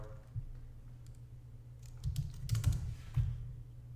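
A computer keyboard clicks through a short burst of keystrokes after a quiet pause, the typing light and close with a faint hum underneath.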